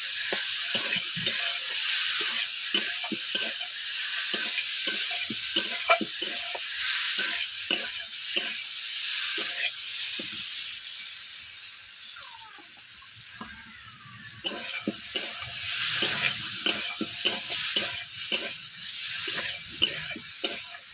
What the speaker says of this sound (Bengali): পটল আলুগুলোকে এইভাবে আমি কষিয়ে নিচ্ছি বন্ধুরা